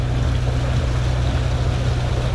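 A boat motor runs steadily throughout, a loud continuous low drone with a broad wash of noise above it and no talk.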